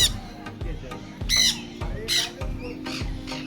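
Parrots in a zoo enclosure give several loud, harsh squawks in irregular bursts close by, while people talk in the background.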